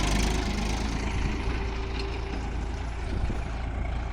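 A 2002 New Holland Ford 3230 tractor engine idles with a steady, loud, low diesel rumble that holds constant throughout and stays close.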